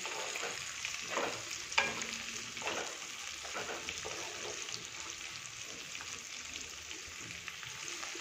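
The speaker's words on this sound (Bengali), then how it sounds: "একটু এটা ভালো করে নাড়াচাড়া করে নেব।" Chili soybean with onion sizzling and frying in a pan, stirred with scattered utensil scrapes and clicks over a steady crackling hiss, close and moderately loud with no talking.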